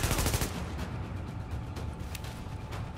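Gunfire in a shooting video game, a rapid rattling burst of automatic shots at the start, then sparser cracks over a dense, noisy battle background.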